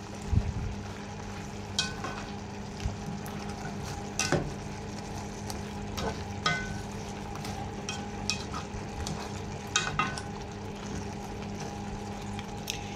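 Chayote and pork sautéing in a pan, a soft steady sizzle with intermittent scrapes and clinks of a utensil stirring, fairly quiet and without talk.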